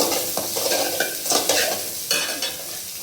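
Beans tossed and stir-fried in a pan for street-style chicken fried rice, with a steady close sizzle and repeated scraping, stirring strokes throughout, no voices.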